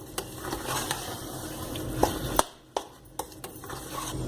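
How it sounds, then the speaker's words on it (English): Pav bhaji being stirred with masala in a hot pan: a spoon scraping and tapping against the pan in irregular strokes over a steady sizzle, close and moderately loud, with a brief quieter pause midway. "pav bhaji masala in it and mix them all. Mix everything properly."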